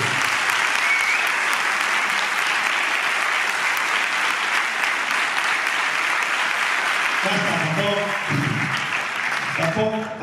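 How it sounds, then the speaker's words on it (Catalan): A crowd gives the town band a long, loud burst of applause at a pasodoble contest festival. The clapping stays dense and steady throughout, and a voice breaks in briefly near the end. "vaig a demanar un fort aplaudiment per a la banda del vostre poble"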